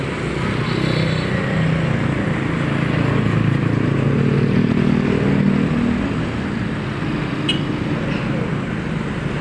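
Continuous roadside traffic as motorcycles, tricycles, buses and cars pass along a street outside a school, a steady loud engine rumble and tire noise throughout with no clear gaps between vehicles.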